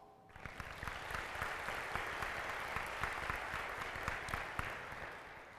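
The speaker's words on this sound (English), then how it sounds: "So a round of applause for our board." An audience at a community report gathering gives the board a steady round of applause, many hands clapping evenly at moderate distance for several seconds with no talking over it.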